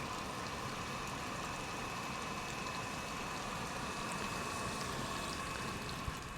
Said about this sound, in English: running the hot water